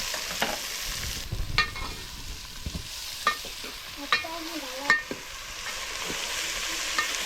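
Onions fry in a pan for a homemade chicken party, a quiet continuous sizzle broken by several sharp clacks and scrapes of stirring at irregular intervals.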